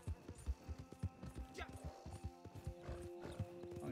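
Horse hooves in Red Dead Redemption 2 Online, the mount nearly dead, clopping in a quick, uneven rhythm close by, with someone talking throughout.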